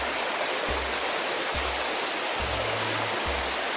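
A waterfall roars as a steady, loud wash of rushing water, unbroken and close, with faint low thumps underneath.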